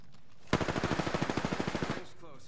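Rapid automatic gunfire in a video game squad match, a loud burst of about fifteen evenly spaced shots lasting roughly a second and a half, with quiet game ambience before and after.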